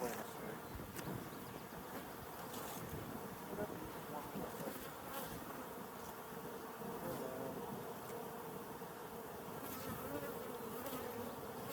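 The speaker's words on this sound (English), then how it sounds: "Oh, there's a wasp." Buzzing from insects near a backyard beehive in Colorado. A wasp and bees make a faint, steady drone with scattered louder passes close by, over quiet outdoor background.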